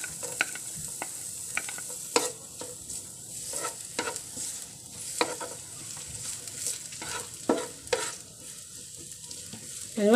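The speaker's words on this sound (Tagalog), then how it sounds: "ilalagay na po natin ang ating onion. Gisahan time po ulit muna tayo." Onion sautés in hot cooking oil with a continuous close sizzle, while repeated spatula scrapes and clicks against the pan come in an uneven rhythm, without any voice.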